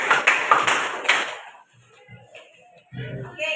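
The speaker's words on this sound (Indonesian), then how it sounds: "kita berikan tepuk tangan." Students in a classroom give a short round of applause, a quick flurry of crisp claps lasting about a second and a half before fading into quiet talk.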